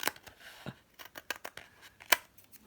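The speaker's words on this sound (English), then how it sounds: "I'm also going to cut it" Scissors snip across the top of a paper envelope, with several sharp, close cuts at uneven intervals and quiet paper rustles between them.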